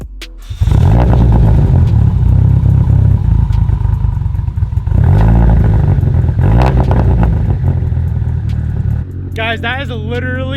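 A Mitsubishi Evo X with a new ETS exhaust fires up and roars to a loud idle, then takes two sharp revs that swell and fall back before the engine settles.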